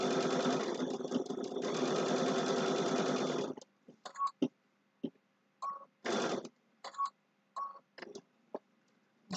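A sewing machine stitches a fabric shopping bag, running in one long steady whir, then in short start-stop bursts with small ticks and clicks between them, close and fairly quiet.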